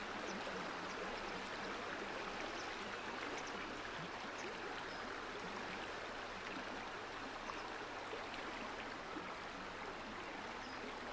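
A rushing stream torrent where damselflies mate, a dense, steady wash of flowing water that stays even and fairly faint throughout, with no voices.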